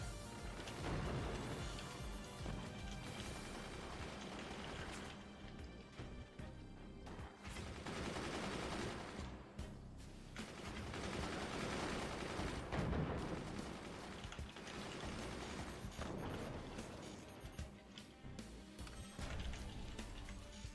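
Mortar fire in the strategy game Forts: a dense, continuous barrage of booms and crashing impacts layered over one another, loud and unbroken throughout.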